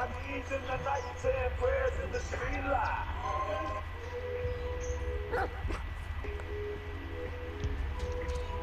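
A dog whimpers and yelps inside the video game The Last of Us Part 2, mixed with game ambience and a player talking over it.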